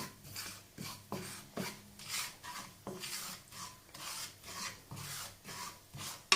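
Spices being stir-fried in a pan for chicken samosa filling, a spatula scraping and rasping across the pan in a steady rhythmic back-and-forth, close and fairly quiet, with no talking.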